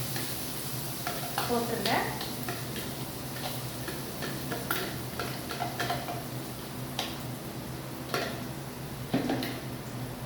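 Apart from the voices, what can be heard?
ground onion frying in hot oil for fish curry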